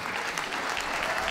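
A dog show final crowd applauds steadily, dense even clapping filling the hall with a faint murmur of cheering, no voices over it.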